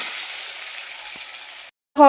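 Steady hissing sizzle of potatoes frying in hot oil, cutting off briefly near the end before a voice begins.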